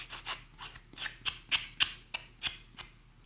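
Packing paper is peeled and torn off a handmade grungy craft tag, giving a series of about ten short, close papery rips and scratchy rubs in an uneven rhythm, with no talking.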